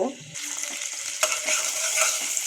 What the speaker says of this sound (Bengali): তো আমি পেঁয়াজগুলোকে ভালোভাবে ভেজে নিচ্ছি